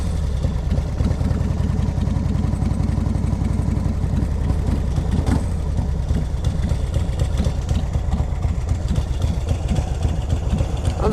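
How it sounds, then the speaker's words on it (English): A 2003 Exotic Chopper with an S&S motor and an open primary idles with a deep, lumpy, rhythmic throb. It stays close, loud and steady for about eleven seconds, with no speech over it. "Let's see how this thing idles."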